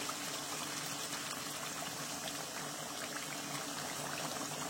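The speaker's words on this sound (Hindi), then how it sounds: "अब इसमें डाल देंगे 2 गिलास पानी के" Steady, continuous rush of hot water poured from a kettle into a pot of browned beef for achar gosht curry, a constant hiss and splash with no talk.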